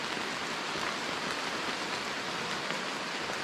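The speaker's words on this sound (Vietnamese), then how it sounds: "Này nó chỉ mưa rào qua thôi" A passing rain shower in a forest falls as a dense, even hiss of raindrops on leaves and surfaces, steady and unbroken with no voices.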